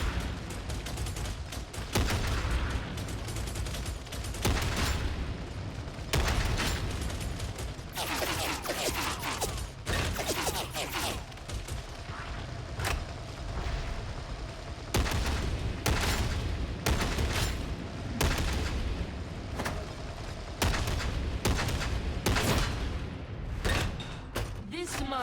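Gunfire in Warhammer 40,000: Darktide, steady volleys of shots and mechanical clatter under a spoken voice, loud and continuous throughout.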